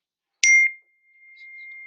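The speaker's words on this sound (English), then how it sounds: "There goes the phone again." A single bright phone notification ding rings out sharply, then leaves a thin lingering tone that fades and returns faintly, with no talk over it.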